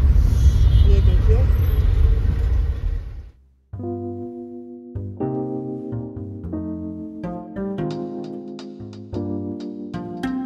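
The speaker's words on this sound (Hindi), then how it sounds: "आज ज़्यादा ट्रैफिक मुझे महसूस हो रहा है, ये देखिए" Heavy Sunday road traffic at a toll gate: a dense, loud rumble of vehicle engines for about three seconds, which cuts off abruptly and gives way to music.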